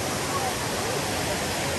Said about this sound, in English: That's the creek that's up at the property.